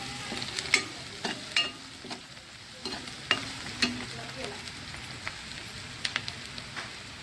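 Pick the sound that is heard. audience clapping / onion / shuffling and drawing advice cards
onion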